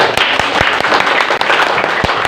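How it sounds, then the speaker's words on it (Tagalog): Loud, sustained applause from a church congregation, dense rapid clapping filling the room close by, with a few sharper individual claps standing out and almost no talk. "patuloy po tayo magpugay sa Diyos sa pamamagitan po ng malakas na palakpak"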